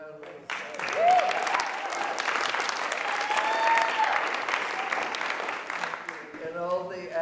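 An audience at a suffrage reenactment panel discussion applauds the playwright, a sustained round of clapping with a voice speaking over it near the end.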